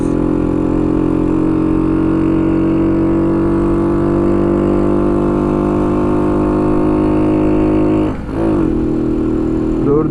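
A Kuba RX9 motorcycle engine holds a loud, steady drone while riding on the road, then dips briefly around a gear change before pulling again at a similar pitch.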